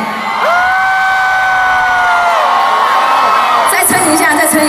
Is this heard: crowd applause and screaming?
yes